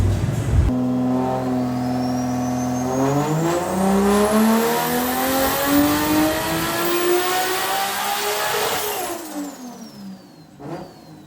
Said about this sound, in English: So we've just done a power run on the Sally.